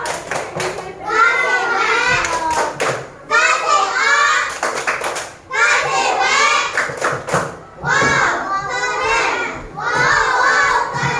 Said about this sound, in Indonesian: kita kasih tepuk bawah lagi. Tepuk bawah.